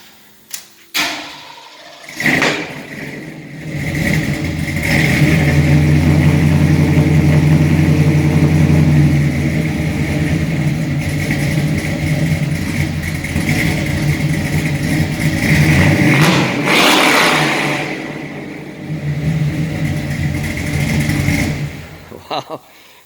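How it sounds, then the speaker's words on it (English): A 1974 Jeep Cherokee engine with Flowmaster original 40 dual exhaust and an H-pipe revs in a loud, sustained burst, dips briefly, then revs again before settling, heard up close outdoors. "Flowmaster original 40s. Dual exhaust all the way"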